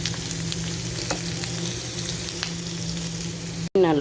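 Onions frying in a pan without added oil make a steady close sizzle with faint stirring ticks, ending in a brief cut and a louder burst.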